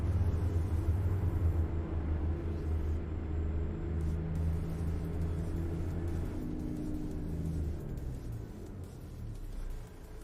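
Low, steady engine rumble from a Kenworth W900 truck in a trucking simulator, droning continuously and fairly loud with a slight shift in pitch near the end, no talking.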